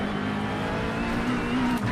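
A GT3 race car engine idles in the iRacing game, a loud steady burbling rumble with a boat-like throb that holds evenly throughout the brief stretch.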